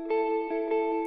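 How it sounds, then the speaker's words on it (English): Clean electric guitar chords drenched in reverb, the main guitar part of a worship song multitrack: sustained ringing tones with a few soft strums, heard alone and fairly close. "Then your main guitar part here is just kind of clean chords and verb."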